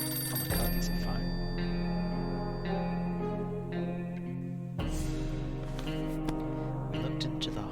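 A telephone rings repeatedly in the post-apocalyptic survival game 60 Seconds, its bell loud and steady across the whole stretch, set over a droning game soundtrack.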